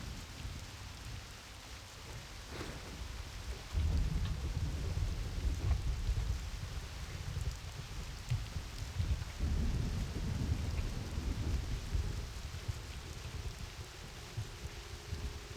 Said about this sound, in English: I love these storms, like when there's just full on lightning and rain.